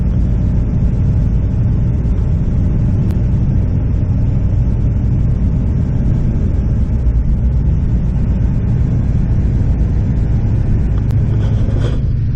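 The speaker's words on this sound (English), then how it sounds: "we got a nice traffic jam here on construction zone in Denver" Traffic idling and creeping in a jam through a Denver construction zone, heard from inside a vehicle as a loud, steady low engine and road rumble.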